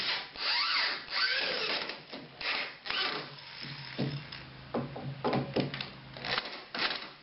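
A drill drives 2.5-inch coarse-thread drywall screws into a wooden wheelchair ramp, close and fairly loud, in several short bursts of whirring and grinding separated by brief pauses and handling knocks.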